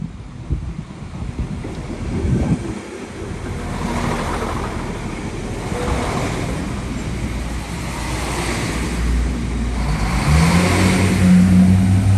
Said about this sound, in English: train spotting time, express train edition.